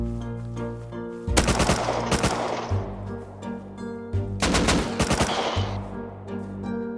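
Gunfire from the Rust video game: two sharp bursts of rapid automatic shots, each lasting under a second and spaced a few seconds apart, loud over a steady droning in-game background.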